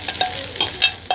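Washed flattened rice (chira) stirred gently in a frying pan for pulao, a brief close burst of soft scraping strokes over a light sizzle.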